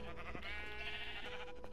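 Sheep bleating in Minecraft, a few short wavering bleats close by over a faint steady game background, with no talking.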